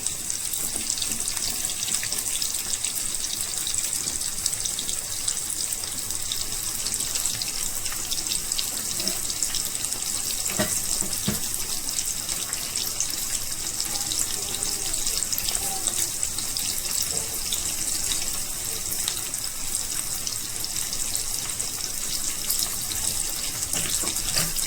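Chicken pakoda deep-fries in oil with a loud, continuous, rushing hiss that stays even throughout, with a few faint knocks underneath.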